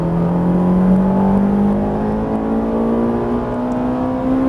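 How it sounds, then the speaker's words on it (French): Ferrari 458 Italia accelerating at full throttle on a circuit, a loud onboard engine drone whose pitch climbs smoothly and steadily as revs build, close and continuous without voices. "Et on double à gauche. Allez, c'est parti, gaz à fond."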